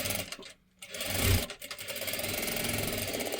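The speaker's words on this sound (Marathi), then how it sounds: "आता इथे मी डबल शिलाई देऊन घेते" A sewing machine runs a fast steady whirring stitch while double-stitching a princess blouse, pausing briefly before resuming its continuous mechanical hum and rapid needle rhythm.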